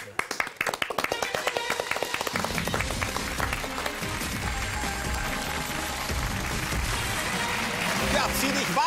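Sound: studio audience clapping enthusiastically

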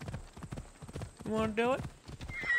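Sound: horse hooves and neighing in video game Assassin's Creed Odyssey

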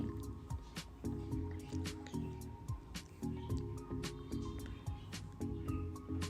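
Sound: milk with custard powder poured into boiled carrots

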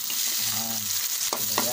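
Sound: onion sautéing in oil

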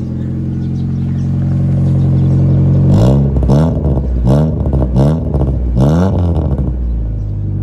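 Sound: 1997 Honda Civic engine revving

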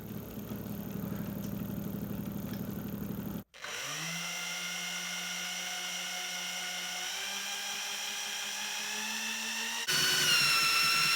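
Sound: electric motor running on free energy test rig

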